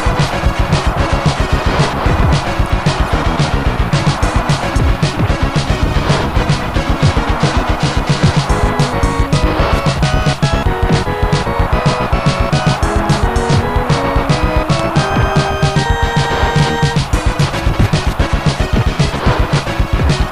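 Upbeat chiptune music from the SNES game Super Soccer, the theme of the opposing team, playing loud and continuous with dense melodic lines and a steady beat throughout.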